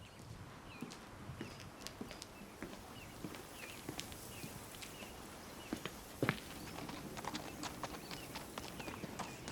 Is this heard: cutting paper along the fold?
no